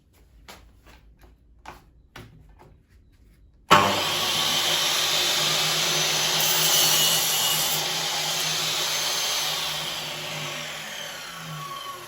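A few faint clicks and knocks, then a Metabo KS 216 mitre saw roars to life cutting wood, running steadily and loudly for several seconds, slowly easing off near the end.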